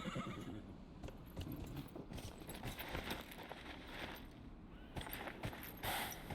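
Horse hooves clip-clopping steadily in the fantasy video game Dragon Age: Inquisition, a continuous close rhythm of hoof strikes with a whinny-like burst near the end and no talk over it.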